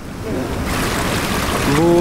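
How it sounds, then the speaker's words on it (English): A huge waterfall roars as a broad, steady rush of water with wind buffeting the microphone, and a voice cuts in briefly near the end. "Look at this waterfall. It's huge."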